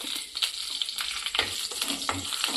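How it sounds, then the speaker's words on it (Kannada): Mustard seeds, curry leaves and green chillies hit hot oil for a sambar tempering, a bright crackling sizzle with quick pops and a few stirring scrapes, close by and continuous. "ಒಂಚೂರು ಎಣ್ಣೆ ಹಾಕ್ಕೊಳ್ಳೋಣ ಸ್ವಲ್ಪ ಸಾಸಿವೆ ಸ್ವಲ್ಪ ಕರ್ಬೇವಿನ ಸೊಪ್ಪು ಒಂದು ಎರಡು ಮೆಣಸಿನ್ಕಾಯಿ"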